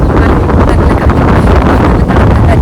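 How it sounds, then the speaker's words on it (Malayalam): Strong wind gusts batter the microphone outdoors in Enschede, a loud, continuous rushing roar with no speech. "കാറ്റ്."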